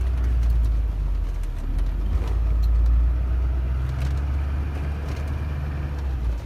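A Hummer H1 Alpha rolls slowly over a ground clearance obstacle at a proving ground, its engine a steady low rumble with a slight swell midway, no talk.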